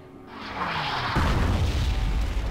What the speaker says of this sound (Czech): Hele, další raketa letí na druhou stranu.